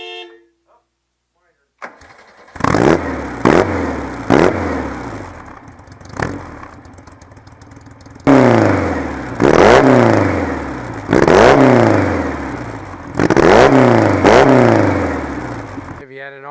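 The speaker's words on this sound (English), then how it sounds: "has a pretty highly modified Volkswagen engine in it that's actually putting out about 160 horsepower" A 1955 Porsche 550 Spyder with a highly modified Volkswagen engine making about 160 horsepower on two Weber carburetors barks into a series of loud, close revs with short pauses between them after a brief quiet start.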